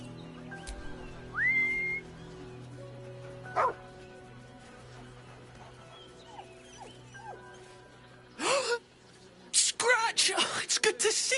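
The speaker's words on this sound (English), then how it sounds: "He's a good dog." Dog barking and whimpering in Baldur's Gate 3, a few short yelps and whines scattered among game voices and music, with louder bursts near the end.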